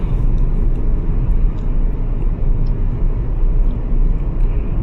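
Inside a car cruising steadily at 70 km/h, a loud, even low rumble of road and engine noise fills the cabin without letup.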